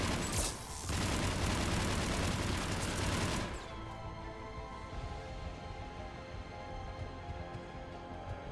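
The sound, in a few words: grenade explosion in the video game Mass Effect 3 Legendary Edition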